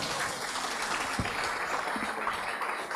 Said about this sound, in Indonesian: kita beri aplaus kepada Ibu Menteri Keuangan